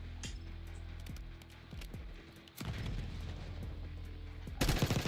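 A frag grenade is thrown and detonates in the Black Ops 6 video game: gunfire and game sounds first, a deep boom near the middle, then a rumbling roar and a loud burst at the end, with no one talking.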